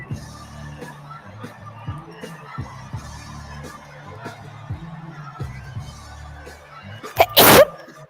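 A single sharp sneeze bursts out near the end, loud and close, over a background of livestream commentary talk and faint crowd murmur from a political convention broadcast.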